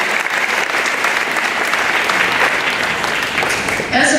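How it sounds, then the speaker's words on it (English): Students at a Veterans Day school assembly give a loud, dense round of applause that holds steady for about four seconds before tapering off at the end. "Let's thank them with a round of applause"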